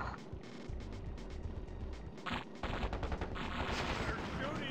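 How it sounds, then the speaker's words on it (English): Rapid machine-gun bursts rake a camp in the real-time strategy game KKnD Evolved, sparse at first and then swelling into dense, continuous overlapping fire. "They're shooting up our camp."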